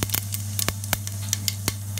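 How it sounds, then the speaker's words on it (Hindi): Cumin seeds crackle and sizzle in hot oil inside a pressure cooker on a gas stove, with scattered sharp pops over a steady low hum. "अब हम इसमें जीरा डाल रहे हैं।"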